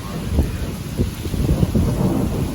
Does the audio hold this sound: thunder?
yes